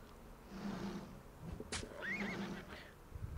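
A horse in a video game whinnies in pain, two strained neighs about a second apart standing out over low game rumble and scattered clatter.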